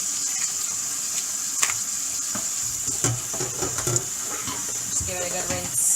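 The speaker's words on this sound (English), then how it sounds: "Just give it a good rinse." A head of cabbage is rinsed under a running kitchen tap, with a steady hiss of water splashing onto the leaves and into the sink. Light handling noises come through, and it is close and continuous throughout.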